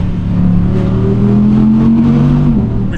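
An Audi R8 GT's naturally aspirated V10 revs inside a tunnel at sunset, its loud droning engine tone rising in pitch and swelling then easing over a few seconds, booming close and reverberant.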